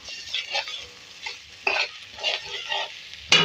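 Ginger garlic paste frying with onions and green chillies for an aloo turai sabzi, a steady sizzle broken by several bursts of stirring, close and fairly loud, with no talk.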